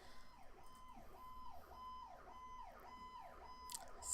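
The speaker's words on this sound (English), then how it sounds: "sorry if you can hear that ambulance going by." An ambulance siren wails in a steady repeating rise-and-fall pattern, faint and distant as it passes by, with no talking over it.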